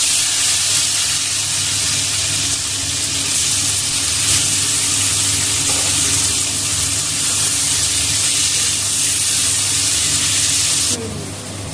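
Tomato dropped into hot oil with whole cumin and bay leaf for navratan dal: a loud, continuous sizzle and hiss of frying that holds steady and eases slightly near the end.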